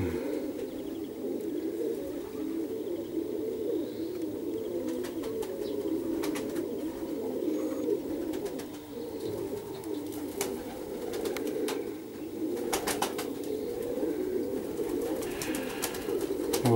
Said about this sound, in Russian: голуби летают.